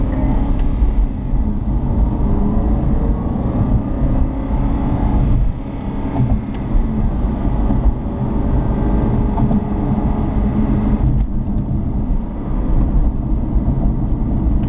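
An Aston Martin Vantage sports car engine drones steadily while driving, with a deep rumbling hum and occasional shifts in revs, including throttle blips on downshifts.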